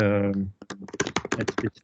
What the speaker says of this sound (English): I get somebody typing as well.